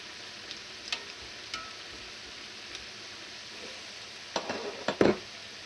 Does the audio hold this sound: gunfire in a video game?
no